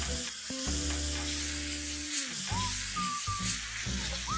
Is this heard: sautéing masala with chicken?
yes